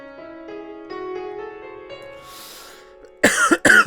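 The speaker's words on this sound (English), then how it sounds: "I've got a bit of a cough today" Piano notes ring out and fade, then two loud, close coughs burst out in quick succession at the end.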